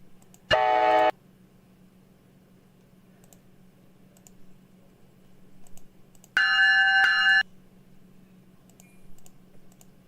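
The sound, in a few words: train bell in Roblox video game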